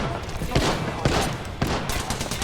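Gunfire in the Apex Legends shooter, rapid bursts of shots with several sharp cracks in quick succession over a dense noisy background, with a voice talking over it.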